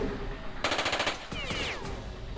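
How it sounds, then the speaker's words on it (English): An automatic burst from a rifle in Jagged Alliance 2: a quick rattling string of about a dozen close shots, then a short pause and a few scattered whizzing ricochet-like sounds. "See if we can't get an auto burst on him."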